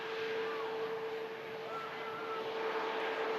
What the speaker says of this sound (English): the stunning Qatar Airbus A350 arrives in with us from Doha